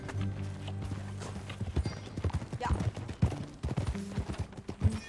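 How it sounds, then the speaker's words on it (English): Horse hooves clip-clop in a steady rhythm while riding in Red Dead Redemption 2, close and clear, with a low musical drone underneath and a brief spoken word. "That new horse?"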